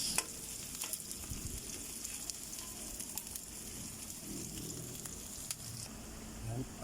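Onions frying in a pan for ginisang bagoong, a quiet continuous sizzle with light stirring scrapes and faint clicks, close but low in level, with no talking over it.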